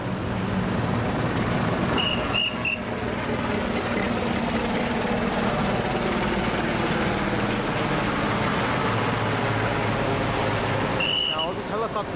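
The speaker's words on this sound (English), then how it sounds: "Now all these helicopters, I think they're the donated helicopters, not Pakistani, but United States helicopters from Afghanistan and from other countries" Helicopters flying over earthquake-damaged Muzaffarabad, a continuous rumbling rotor drone that stays loud and steady throughout, with brief faint tones and background noise.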